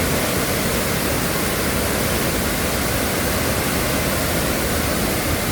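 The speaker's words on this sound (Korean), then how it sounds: "힘차게 떨어진 폭포수는 투타산 협곡 전체를 흔들 듯이 굉장한 물소리를 쏟아냅니다." Roaring twin waterfall in the Duta mountain gorge of Mureung Valley, Donghae, pouring down as a dense, steady, loud rush of water with no pause or voices.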